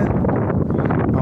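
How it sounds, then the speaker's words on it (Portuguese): Strong wind buffets an outdoor microphone in rural farmland near Japira, Paraná, making a loud, steady rumbling roar throughout. "Está ventando bastante aqui."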